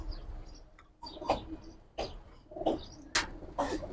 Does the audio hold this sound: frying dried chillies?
no